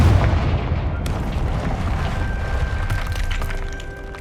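Confringo fire blast spell from the video game Hogwarts Legacy, a loud, dense explosive burst with crackling debris that rumbles on steadily for several seconds, alone without talk.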